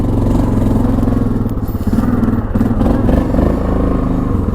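A 2002 Yamaha Grizzly 660 ATV engine runs loud and close on a test drive, a steady rumbling throb with slight rises and dips in throttle and some rattling clatter.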